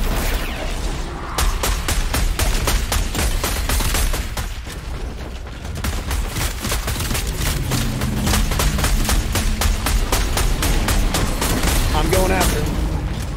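Rapid gunfire crackles through a video game firefight as a player snipes at an enemy, dense bursts and booms repeating almost without pause, with a voice talking over parts of it.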